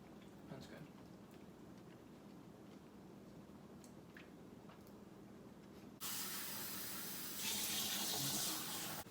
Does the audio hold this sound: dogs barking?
no